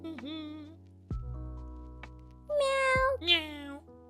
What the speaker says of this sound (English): I just love the meows